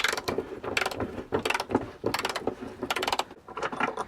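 A spanner loosens and backs out a securing bolt while a tyre is changed on a VW 4motion Transporter, heard as rapid ratcheting clicks in repeated short bursts, close up and clear, with no talk.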